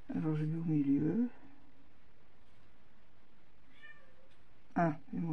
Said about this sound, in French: C'est pas les oiseaux, c'est le chat.